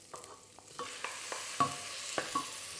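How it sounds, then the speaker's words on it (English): Beef hits hot oil in a pot for Vietnamese bo kho stew, giving a soft, steady sizzle punctuated by several sharp scraping stirs, fairly close and not loud, with no talking. "A little bit more oil. And then your beef goes in."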